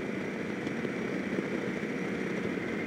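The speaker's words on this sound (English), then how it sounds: "This is completely stock exhaust and it makes a hell of a ruckus." Stock-exhaust motorcycle running steadily nearby, a continuous loud engine drone with a rough low rumble and no breaks across the few seconds, with no voices over it.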